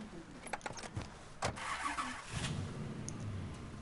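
Car engine starting in the video game Mafia 3: a few clicks and short cranking bursts lead to an engine catching and settling into a low, steady idle, fairly faint and without speech.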